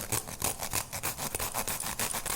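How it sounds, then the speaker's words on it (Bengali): Pointed gourd (potol) rubbed on a hand grater in a home kitchen, quick rhythmic rasping strokes repeating several times per second, close and fairly quiet. "এরকম ঘষণে দিয়ে আমি ঘষে নিচ্ছি"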